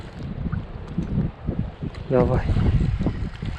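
Strong wind gusts across a lake shore during fishing, an uneven low rumble that swells and fades, with someone briefly speaking over it.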